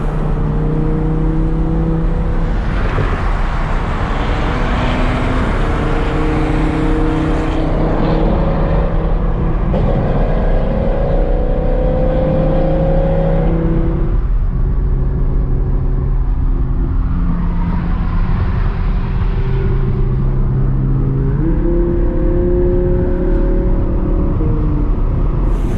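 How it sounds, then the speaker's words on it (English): An Audi R8 with a Vorsteiner kit roars and revs in a tunnel, its exhaust echoing off the walls, rising and falling in pitch over a constant heavy rumble. "you hear the noise coming out of the back of the car bounce back into your ears off the walls"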